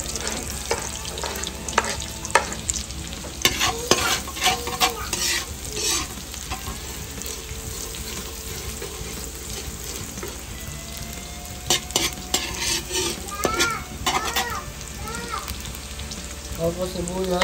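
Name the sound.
garlic frying in oil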